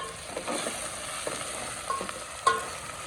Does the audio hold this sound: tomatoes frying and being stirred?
yes